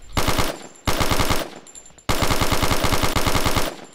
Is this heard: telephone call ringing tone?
no